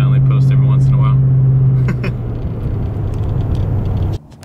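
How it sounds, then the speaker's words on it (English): A 2012 Toyota Tundra pickup's engine rumbles steadily up close, its low drone holding for about four seconds before cutting off abruptly. "here's my new 2012 Toyota Tundra."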